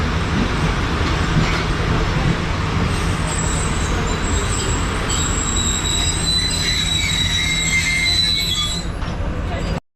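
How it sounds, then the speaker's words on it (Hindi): Allama Iqbal Express passenger train at Jumma Kot station, a loud continuous rumble of wheels and carriages with high squealing tones building as it pulls away, heard from on board without talk. "अब मूव होना शुरू हो गई है हमारी ट्रेन"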